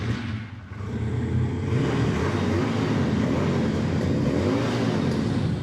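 A Lifan V-twin motorcycle engine with chrome-plated engine covers runs steadily in a showroom setting, a loud continuous rumble holding near and alone with a brief dip early on.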